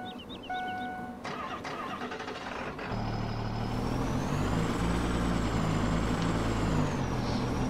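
A Dodge truck in Farming Simulator 17 revs from idle into a steady, loud engine drone with a rising whine, after brief clicks and beeps at the start.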